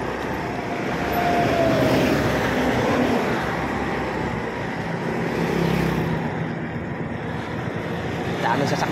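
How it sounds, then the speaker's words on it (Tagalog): Steady traffic of many cars and other vehicles streaming past on a busy road, a continuous loud roar and hiss with passing swells, heard up close with no clear talk over it. "Daming sasakyan."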